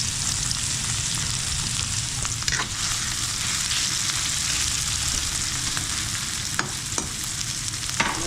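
Tomatoes sauté in a hot frying pan, giving a steady, dense sizzle and hiss throughout with a few faint utensil clicks, close and continuous, no talking.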